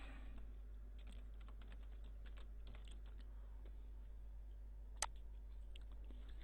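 Typing a password on a computer keyboard at a flight-logging duty clerk terminal, a light run of soft key clicks over steady room hum, with one sharper tap near the end.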